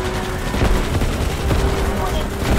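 Rocket launcher fire in the sci-fi shooter Starship Troopers: Extermination, a loud, dense barrage of blasts and booming impacts rolling on without pause, with voices mixed in.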